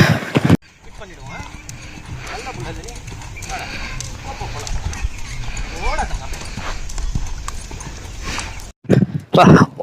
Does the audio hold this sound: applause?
no